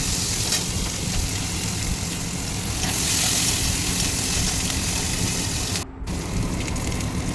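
Chopped onion, dried red chilli, bay leaf and panch phoron fry in oil, a constant, fairly loud sizzling hiss that runs on steadily with one brief dip near the end.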